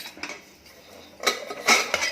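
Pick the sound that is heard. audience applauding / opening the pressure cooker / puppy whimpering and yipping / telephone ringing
opening the pressure cooker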